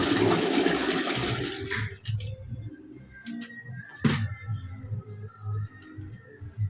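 Ten litres of liquid for homemade fabric conditioner pour in a loud, rushing gush that tapers into softer sloshing and trickling. A sharp knock sounds partway through.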